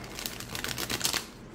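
A stiff new deck of tarot cards is shuffled up close, giving quick papery riffling and crisp flicks in short bursts for a moment.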